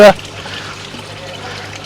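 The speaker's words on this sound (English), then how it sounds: "quite cleverly she's got little aerators, what keeps the water fresh, keeps the fish alive" Small aerators trickling water in a squid tank in Thailand, heard as a steady, close bubbling hiss after a brief loud knock at the start.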